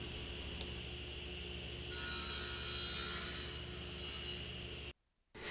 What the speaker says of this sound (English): now I'm cutting the bevel on the bottom of the leg so they'll be splayed outward